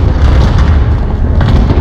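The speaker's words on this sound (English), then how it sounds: "Allied cluster strike inbound" Cluster strike explosions in a Call of Duty match make a loud, continuous low rumble of overlapping booms, heavy and close for the whole stretch, with no voices over them.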